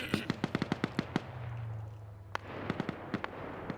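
Gunfire in a military PvP video game match: a rapid string of sharp shots is followed by a low hum and a pause, then scattered single shots, at moderate loudness with no voices.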